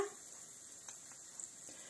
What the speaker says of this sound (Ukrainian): Перша партія смажиться